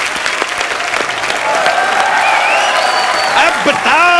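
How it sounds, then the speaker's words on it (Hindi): A television studio audience on a comedy show claps loudly and continuously, with dense applause carrying a cheer and a host's voice over it. "जोरदार तालियां इनके लिए"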